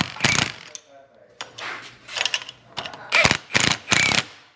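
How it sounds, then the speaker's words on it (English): Ratchet running bolts down on hot, freshly welded steel parts of an off-road 6x6 build, with bursts of clicking and sharp metallic clanks, several quick pulls near the end. "So we're gonna put these two back to back and run bolts down on them and try and straighten them out."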